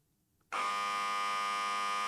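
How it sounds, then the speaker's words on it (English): A harsh, loud electronic buzzer in the video game Flowers -Le Volume sur Été- sounds abruptly after near silence and holds as one steady, unbroken tone. "I was not expecting buzzer"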